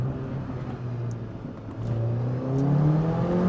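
A Mercedes CLA 45 AMG revs hard on a road in the Swiss Alps, its engine drone climbing steadily in pitch and loudness as it accelerates, heard from close up and with no voices over it.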